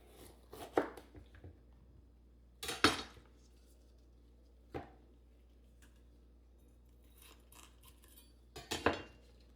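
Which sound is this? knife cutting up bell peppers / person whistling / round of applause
knife cutting up bell peppers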